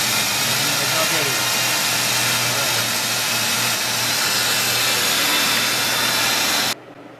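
A Buick engine idles with a steady, even hum and broad hiss of exhaust, close and constant for several seconds before cutting off abruptly at the end.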